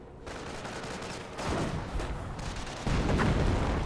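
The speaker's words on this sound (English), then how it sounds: "Misses the mortar shot there." Mortar fire in a Company of Heroes battle: dense, roaring combat noise with heavy booms and gunfire, swelling in two louder surges as the shot lands amid the ongoing fight.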